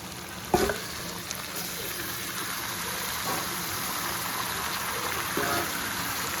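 Steady sizzling of onions and free-range desi chicken frying in a pan, close by, with a few clanks and stirring scrapes breaking through the constant hiss.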